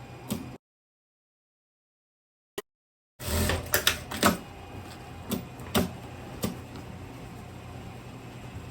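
A sewing machine topstitches a facing on tailoring fabric. After a brief silence, a steady mechanical whir starts with irregular sharp ticks and clatters over it, close and fairly loud.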